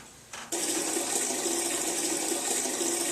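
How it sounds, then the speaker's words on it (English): Water suddenly bursts into a loud, continuous rush after a brief quieter moment, staying close and steady to the end. "It sounds like rushing water."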